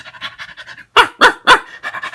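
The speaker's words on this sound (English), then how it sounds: "I think the little doggie's wondering too." Close, rapid panting from a small dog, quick soft breaths with three louder huffs in the middle, then light panting continues.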